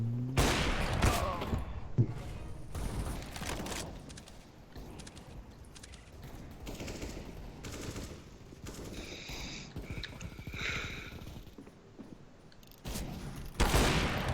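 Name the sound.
gunfire in the video game Counter-Strike: Global Offensive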